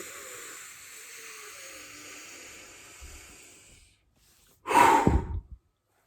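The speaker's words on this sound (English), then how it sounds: "just spending much more time breathing in than we do breathing out" A person demonstrates a breathing technique, drawing a long, quiet inhale for several seconds, then pausing before a brief, louder exhale.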